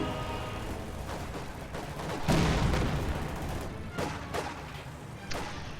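Artillery and a Jackson tank destroyer fire in a wartime strategy game, giving heavy booms and sharp cracks at irregular intervals, with one loud blast standing out over steady battle noise.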